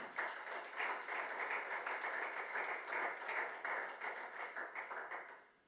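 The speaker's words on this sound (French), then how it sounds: "Alors nous applaudissons le Seigneur, nous acclamons le Seigneur pour cela." Congregation at a church conference applauds, a fairly quiet but steady patter of many hands clapping with faint rhythmic pulses, tapering off at the end.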